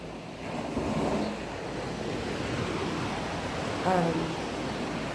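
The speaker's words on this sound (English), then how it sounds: "the sound here is the beach" Ocean waves wash onto a beach in a continuous rushing surf, with wind noise over the microphone and a faint voice briefly in the background.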